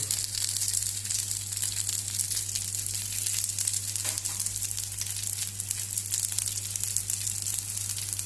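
Goan-style mussels fry in oil in a pan, giving a continuous close crackling sizzle with a low steady hum underneath and no talking.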